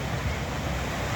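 Strong river current rushing steadily, a loud, even roar of flowing water close by with no voices.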